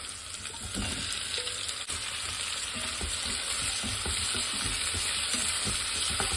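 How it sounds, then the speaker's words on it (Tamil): Onions and tomatoes sautéing in a hot pan, a continuous bright sizzle with occasional scraping and stirring knocks, close and steady throughout. "வெங்காயம் தக்காளி நல்லா வதங்கிடுச்சு"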